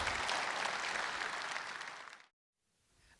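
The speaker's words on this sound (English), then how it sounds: "Let's give Angela a round of applause for a beautiful deer." Audience applauding a hunter's big buck at a sport show's Big Buck Night, a dense loud wash of clapping that cuts off sharply, followed by a brief silence and faint room noise.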